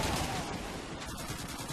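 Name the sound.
gunfire in Call of Duty 2 video game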